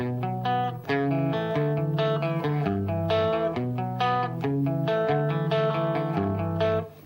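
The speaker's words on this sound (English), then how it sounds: "The riff I was playing was, without the delay, would sound like this." A clean electric guitar plays a steady rhythmic riff of repeated chords, dry and close with no echoes trailing the notes.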